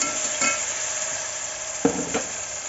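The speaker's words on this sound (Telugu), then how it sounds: "ఇప్పుడు ఇందులోకి దంచి పెట్టుకున్న అల్లం పేస్ట్ని వేసేసుకున్నాము ఇది పచ్చివాసన పోయేంత వరకు వేయించుకోవాలి" Ginger paste fries in oil in a cooker for pulao, giving a continuous close sizzle and hiss. A few brief stirring scrapes and knocks of a utensil sound in the pan, and no one talks.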